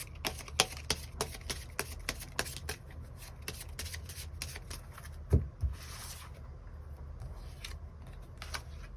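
Tarot cards are shuffled and drawn in a quiet room, giving a run of sharp card snaps and riffles at close range, with softer flicking and sliding between them and no talking.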